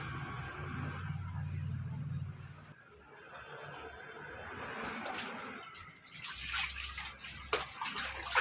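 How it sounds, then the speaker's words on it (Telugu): A grandmother wrings out hand-washed clothes, with water splashing and sloshing in uneven bursts up close, louder toward the end. Speech is faint or absent. "బట్టలు పిండుతున్న అమ్మమ్మ"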